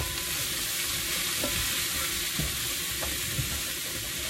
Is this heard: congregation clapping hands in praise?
no